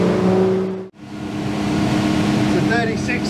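Outboard motor on a Seaking Hunter 720 boat, loud and steady, briefly cutting out and then resuming to run on at a constant drone while someone speaks faintly near the end.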